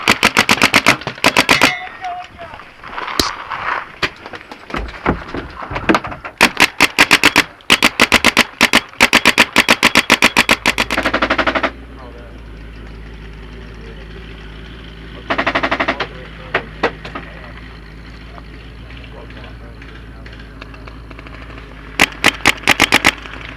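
Video game gunfire in a tower assault, rapid bursts of automatic fire and single shots in loud clusters, broken by a quieter stretch with a low steady hum.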